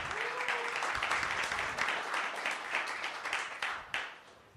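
An audience at a venture capital panel event applauds the sponsors, steady clapping from a room full of people that swells and then tapers off, with a brief voice at the start.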